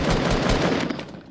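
Rapid automatic gunfire in the video game Fortnite, a dense loud burst of shots rattling close up, then thinning and fading toward the end.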